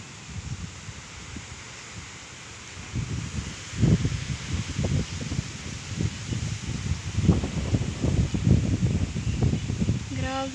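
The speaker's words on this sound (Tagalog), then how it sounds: "Ang lakas pa ng hangin." Strong wind buffets and rushes past in uneven gusts, with rustling and blustery roar building through the clip.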